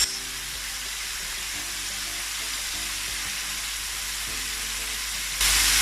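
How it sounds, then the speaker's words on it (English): Salt and pepper chicken deep frying in hot oil gives a steady, close, dense sizzle throughout, brightening near the end. "So I'm going to check on the chicken. It's been frying for 8 minutes."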